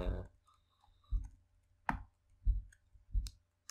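A computer mouse clicks several times at close range, sharp isolated taps spaced roughly every half second, with quiet background between them.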